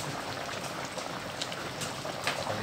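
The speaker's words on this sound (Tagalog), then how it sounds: "Ayan, kumukulo na siya." A pot of thick kaldereta stew bubbles and simmers steadily at close range, soft popping blips over a constant hiss.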